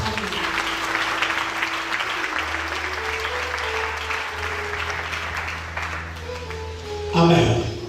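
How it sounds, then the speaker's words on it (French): A congregation applauds loudly at an Easter church service, with sustained dense clapping over held musical tones and a brief louder burst near the end. "Acclame très fort."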